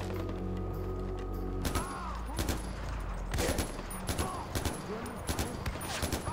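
Far Cry 4 gunfire: rapid bursts and single shots crackle over a steady low game hum. The rhythm is uneven and some shots land close, with a few sharp ricochet-like chirps between them.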